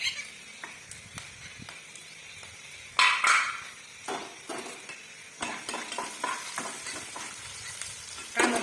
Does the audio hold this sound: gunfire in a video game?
no